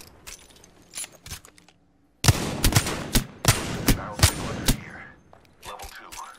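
Gunfire in the Apex Legends battle royale game, a burst of about a dozen loud, rapid, close shots in an uneven rhythm, preceded by quieter distant shots and faint background noise.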